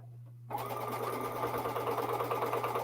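A sewing machine starts up and runs steadily while stitching quilt blocks, a fast even whirring hum close by with no talking over it.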